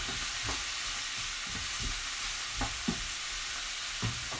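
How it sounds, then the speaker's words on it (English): Thyme, bay leaves and garlic being stirred into a pot of coq au vin, with a steady soft sizzle and several light spoon scrapes and knocks against the pot at irregular intervals, close by and without talk. "I'm going to add the thyme, bay leaves, and the garlic. Give that a bit of a stir."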